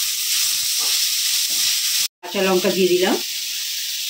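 Chopped cabbage sautés in a pan for cabbage paratha with a steady loud sizzle, briefly cut off, then returning with a stirring scrape while someone speaks over it.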